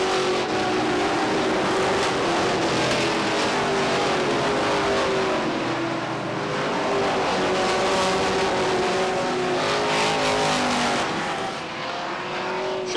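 Race cars roar loudly around the Beech Ridge Motor Speedway oval on the final lap of a 1993 weekly feature, engines droning steadily with shifting pitch as the pack passes, no talk heard.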